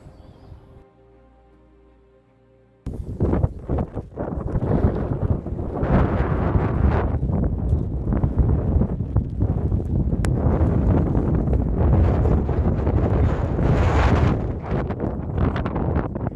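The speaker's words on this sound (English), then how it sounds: "Super windy." Strong wind with mist along the Southern Upland Way roars and buffets the microphone in heavy, uneven gusts, after a quiet hum in the first few seconds.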